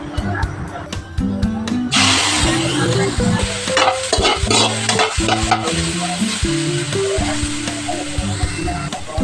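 Meat frying in a hot pan with a little oil, a loud steady sizzle running throughout with busy stirring clatter layered on top.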